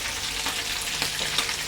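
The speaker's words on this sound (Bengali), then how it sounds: "মাছ ভাজা হচ্ছে।" Fish frying in a pan in a home kitchen, a continuous close hiss of sizzling oil with small crackles and pops, no voices.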